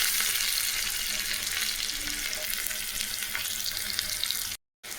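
Mustard seeds and onion frying in hot oil for sambar, a loud steady crackling sizzle close by, broken by a brief cut near the end.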